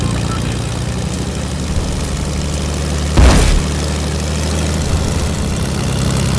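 Propeller airplane engine in the Fortnite video game, a steady low droning hum that runs throughout with a brief louder burst in the middle.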